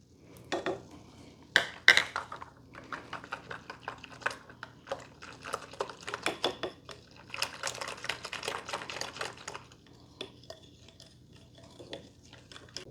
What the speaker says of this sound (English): This kind of a whisk right here really helps.